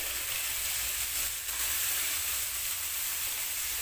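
Finely chopped tomato fries in spiced masala for a Punjabi carrot-and-pea sabji, giving a steady, close, continuous sizzle and hiss with no talking.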